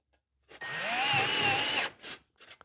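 Power drill driving a screw into sheet metal HVAC duct: one burst of motor whir just over a second long with rising pitch, followed by two short ratcheting buzzes, close and alone.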